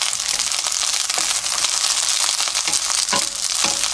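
Shishito peppers fry in a pan over low heat with a splash of water, a continuous close sizzle with crackling pops and occasional scraping stirs.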